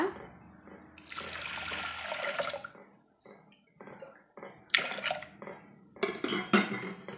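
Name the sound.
pouring water into pressure cooker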